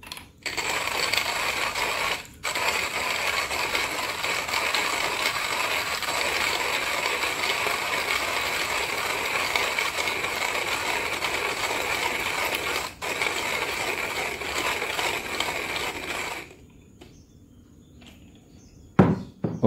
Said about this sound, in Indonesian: kita giling dulu pakai hand grinder